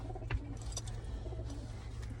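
Young pigeons give soft, low cooing notes over a steady background hum, faint and close, with no talking.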